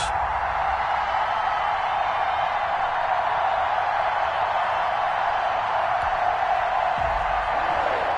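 A stadium crowd before a Patriots versus Bengals NFL kickoff, a dense, steady roar of cheering and murmur that holds at an even level throughout.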